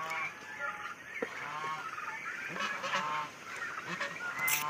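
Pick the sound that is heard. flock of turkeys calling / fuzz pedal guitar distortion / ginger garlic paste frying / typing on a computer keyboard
flock of turkeys calling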